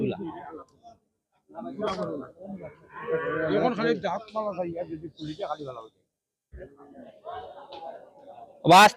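Cattle moo and low over steady chatter of many voices at a busy, crowded Sylhet cattle market selling cows and calves, animal calls breaking through the talk.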